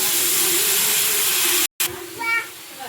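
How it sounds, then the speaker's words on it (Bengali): Water poured into a hot pan of fried beetroot, potato and prawns; a loud steady steaming hiss, cut by a brief silence, then a softer sizzle with a faint rising whistle-like tone. "এর মধ্যে জল ঢেলে দেবো, ভাজা হয়ে গেছে।"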